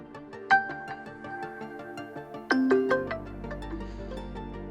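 A OnePlus Open 5G phone plays its ringtone, a bright chiming melody of clear repeated tones, with a louder burst partway through as the ring volume slider is adjusted, then settling into a sustained tone.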